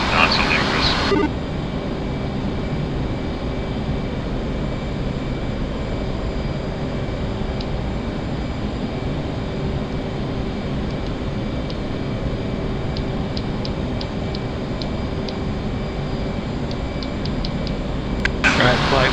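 A fixed-wing aircraft engine drones steadily and loudly throughout a flight simulator session, a continuous cockpit hum with faint clicks and tones near the end.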